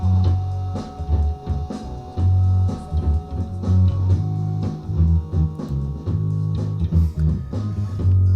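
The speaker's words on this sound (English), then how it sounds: "So now we have a little bandpass, a little distortion, and a little res edge artifact." Heavy, punchy bass-driven music passes through a bandpass filter with light distortion and resonant edge artifacts, giving a narrowed, gritty, pumping tone that plays continuously and close.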